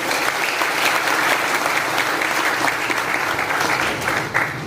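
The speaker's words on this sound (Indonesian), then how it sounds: "Tepuk tangan untuk mereka." Crowd applause at a gathering honoring those who defended Dayak customs, culture and tradition, a large audience clapping steadily and loudly in a dense, sustained wash that holds evenly before easing slightly at the end.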